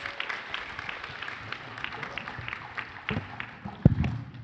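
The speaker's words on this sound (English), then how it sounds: "Let's give both of our Lieutenant Governor candidates a round of applause" Scattered, fairly faint clapping from a small audience at a Boys State event for two Lieutenant Governor candidates, uneven individual claps with a sharp knock near the end.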